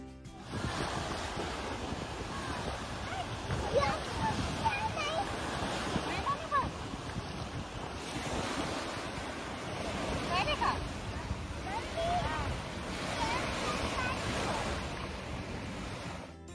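Waves roll onto the Lake Ontario shore at Burlington, Canada, a steady wash of surf with gusty wind buffeting the microphone, moderately loud and continuous throughout.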